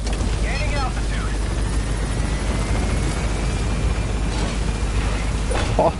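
A helicopter climbs in the video game Metal Gear Solid V, set in Afghanistan, its steady rotor and engine drone holding loud and even throughout with faint talk mixed in.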